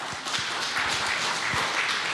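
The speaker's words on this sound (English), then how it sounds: "So now let's give a big applause to Andreas." A small meetup audience at a Flutter developer event applauding a speaker, steady dense clapping throughout at moderate volume.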